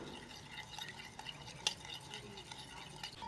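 Eggs are beaten in a bowl for a rice flour pitha batter, a soft, continuous stirring and clinking of utensil against the bowl, fairly faint and close, with one sharper clink partway through.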